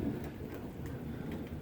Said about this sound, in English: Looks like we have a thunderstorm in progress again.